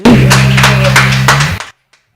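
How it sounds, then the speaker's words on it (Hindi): Loud, close applause from an audience at a live Kinnaur Idol grand finale singing contest, a dense burst of clapping lasting about a second and a half before cutting off abruptly. "एक बार जोरदार से तालियां हमारे ऑर्केस्ट्रा बैंड के लिए।"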